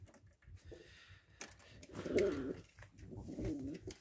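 Pigeons coo in a coop in low, throaty, rolling calls that repeat close by, with faint rustling and small bumps in the background.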